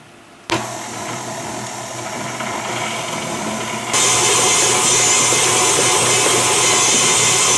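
An electric mixer whirs through banana bread batter in a bowl, starting abruptly and running steadily, then stepping up to a louder, higher speed partway through, close and alone without talk.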